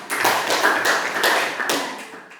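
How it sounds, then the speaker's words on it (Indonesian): A classroom of pupils claps for a student group, a burst of uneven hand claps in several loud waves, close by and with no talk. "tepuk tangan untuk kelompok 3"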